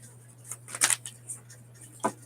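Playing cards being shuffled close up, a few quick crisp riffles and flutters over a low steady hum, with brief pauses between bursts.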